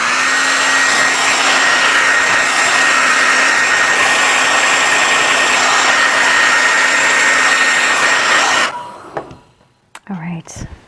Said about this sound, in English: So I'm going to blow dry that.